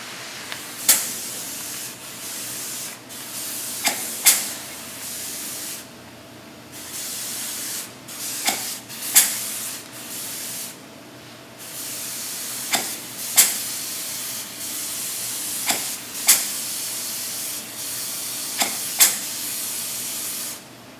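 Sames Kremlin Airmix spray gun laying a finish coat of paint, a steady close hiss of atomized spray broken by repeated short bursts and trigger clicks at regular intervals, with no talk.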